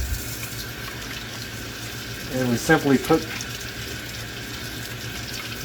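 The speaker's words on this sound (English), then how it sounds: "I know the water sound is in the background." Warm water runs from a tap into a sink for washing brass cartridge cases, heard as a steady background wash with a brief louder splashing burst midway, while someone talks.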